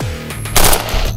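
Gunfire in a Bangla short film, a loud close burst of rapid shots with a ringing, echoing tail, over in about a second.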